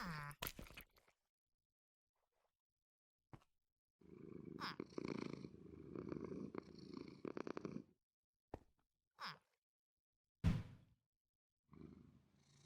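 Cats purring in the Minecraft video game: several bursts of soft rumbling purrs and short meows, separated by silent gaps, close but quiet.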